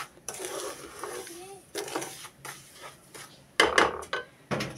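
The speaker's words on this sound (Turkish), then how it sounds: "Yanmaması için bir elimle de irmik helvasını kavuruyorum." Semolina halva being stirred and toasted in a pan, with scraping and clinking of a utensil against the metal in irregular strokes, growing louder toward the end, mixed with other kitchen clatter.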